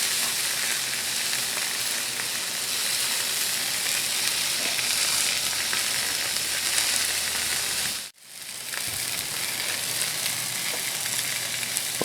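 Sausages and peppers sizzle on a Blackstone flat-top griddle, a loud, steady, close hiss of frying that drops out for a moment and then resumes, with no voices.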